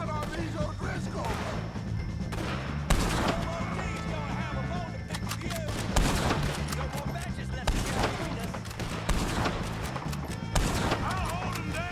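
Gunfire in a Red Dead Redemption 2 shootout against O'Driscoll gang members, with repeated sharp shots cracking out at intervals over a dense bed of galloping hooves and game noise, alongside voices.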